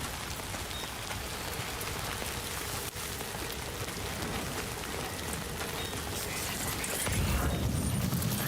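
Rain in the video game Death Stranding 2 falls as a dense, steady hiss of drops hitting surfaces, swelling with heavier, lower patter near the end. It is continuous and fairly quiet, with no talking.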